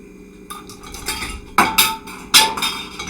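Lids being tightened on jars of homemade mayhaw jelly, close glassy clinks and metallic scrapes in a few distinct bursts, the last two sharp and loud, with no talking.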